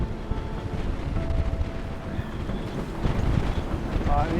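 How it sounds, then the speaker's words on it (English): Strong 35-knot wind gusts buffet a sailboat heeling hard in a storm close to shore, a loud, rough, rumbling blast that surges and swells unevenly throughout. "But just as we thought it was all over, another 35 knot gust."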